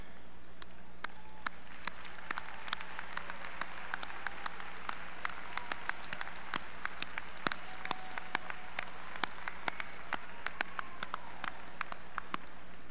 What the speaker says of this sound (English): join me for a well-deserved round of applause for our outstanding faculty and staff